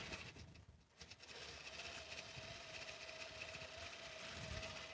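Quilting sewing machine running at low level, giving a steady mechanical hum with a faint tonal whine and soft rapid patter throughout, with no talk.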